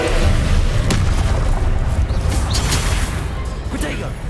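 A disarming spell cast in the video game Hogwarts Legacy, heard as loud booming magic blasts with sharp crackling bursts over a dense, steady rumble of game effects.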